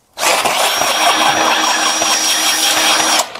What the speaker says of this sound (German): normalerweise kannst du hier mit einer Akkuschraube auch die Schrauben herausschrauben